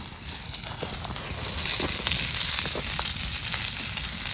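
Sausages, peppers and onions sizzle and crackle steadily on a greasy camp grill outdoors, a bright continuous hiss with occasional pops, with no talking.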